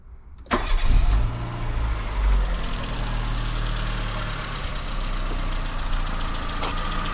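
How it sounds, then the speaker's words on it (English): Renault Kangoo engine cranks and fires up after an oil change, then settles into a steady idle with a slight change in tone partway through, close and loud, no talking. "Hear the engine tone change there."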